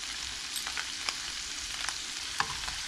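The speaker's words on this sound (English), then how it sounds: "we're going to saute these with the meat for about 5 minutes" Beef sautéing in a pan with vegetables for stroganoff keeps up a steady, close sizzle and frying hiss, broken by small occasional stirring clicks and scrapes.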